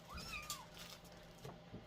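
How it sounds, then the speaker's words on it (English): A grown kitten in a house meows once or twice, fairly quietly, with a rising and falling tone over steady room noise. No one speaks. "Y'all remember the little kittens that we had? They've gotten huge."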